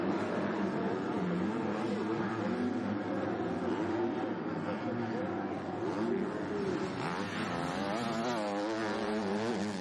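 A Kawasaki motocross bike races in an MX2 race at the Trentino MXGP, its engine droning and wavering in pitch at a distance under continuous commentary, with crowd and background noise steady throughout.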